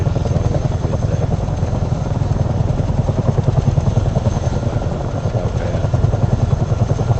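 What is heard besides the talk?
CH-47 Chinook helicopter in flight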